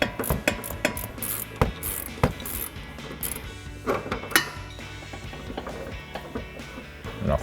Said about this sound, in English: I'm going to have to grab an 18 millimeter ratcheting wrench